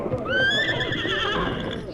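A horse whinnies loudly and close in an old radio drama, one long rising then falling neigh lasting nearly two seconds over a muffled background.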